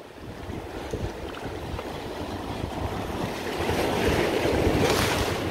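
Sea waves wash onto the shore in a continuous rushing surge that grows louder toward the end, mixed with gusty wind on the microphone, with no talk.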